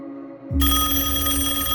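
An old-style telephone bell starts ringing abruptly and keeps going steadily, loud and close, with a faint hum before it begins.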